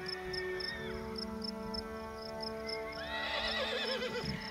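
Wild horses in Wyoming neigh and whinny repeatedly, with high wavering calls rising near the end, over a steady outdoor bed of chirping insects.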